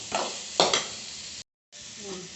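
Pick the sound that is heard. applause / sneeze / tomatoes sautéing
tomatoes sautéing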